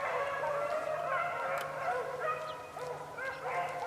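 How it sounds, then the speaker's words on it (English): Several hunting dogs bark and yip continuously at a distance while chasing rabbits in a swamp, their overlapping calls forming a steady, excited chorus with a low hum underneath. "Man, the dogs are already stroking."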